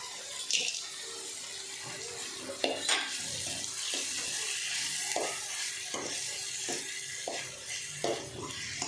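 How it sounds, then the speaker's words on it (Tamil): Cinnamon, cloves, cardamom and bay leaves sizzle in oil with half-fried onions for a chicken curry, a steady close crackle broken by scattered stirring clicks and scrapes of a spoon in the pan. "இப்போ பட்டை கிராம்பு, ஏலக்காய் எல்லாம் போட்டுக்கிறோம்."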